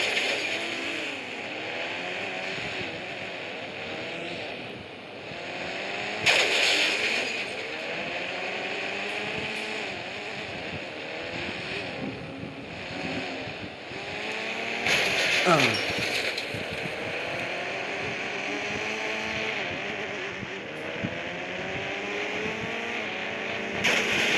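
Cars race and ram each other in the mobile game Indian Bikes Driving 3D, with constant whining engine tones rising and falling, sudden crash bursts around six and fifteen seconds, and game sound effects.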